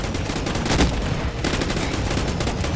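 Shotgun fire in the Roblox game Gun Fight Arena, a dense continuous barrage of loud shots with no clear gaps between them.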